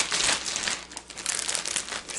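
A plastic baggie crinkles and rustles up close as a folded towel is pushed inside it, a dense continuous crackle with small surges in loudness and no talking.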